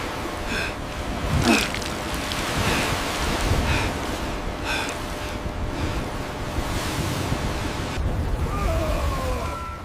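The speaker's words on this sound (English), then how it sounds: "Water surges through the compromised door, spreading chaos across the deck." Heavy ocean water surges and crashes onto a ship's deck under roaring wind, a loud, continuous, turbulent wash with occasional sharper impacts.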